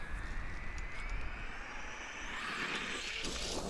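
A Traxxas Maxx 4S RC truck accelerating hard toward a jump at a park, its electric motor whine rising steadily in pitch and growing louder as it picks up speed, with no talking.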